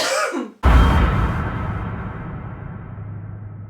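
A single sharp cough from a person, loud and close, following a brief moment of someone speaking and trailing into quiet room tone.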